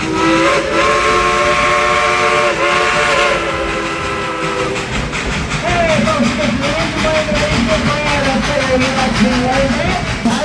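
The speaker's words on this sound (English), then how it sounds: "it's time for a ride on the train" A loud steam train whistle blows in long sustained tones over the rumble and chuffing of a moving train at Dollywood's amusement park railroad, with voices in the background.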